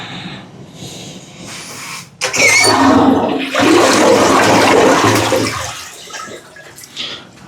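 An apartment toilet is flushed after a clog has been cleared: a sudden loud rush of water at about two seconds runs for several seconds, then drains away to a quieter gurgle and refill near the end.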